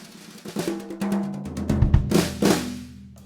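A drum kit played softly with brushes in Superior Drummer 3, swishy snare strokes and low tom hits in a loose rhythm, with a dry, muted vintage feel.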